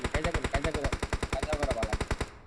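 Rapid automatic gunfire from PUBG Mobile rattles out in one continuous burst of evenly spaced, loud, close shots, stopping abruptly at the end, with a voice faintly underneath.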